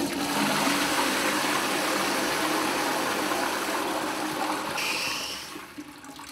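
A toilet flushes with a loud, steady rush of water that holds for several seconds, then tapers into gurgling and refilling as it drains a small plastic toy army man.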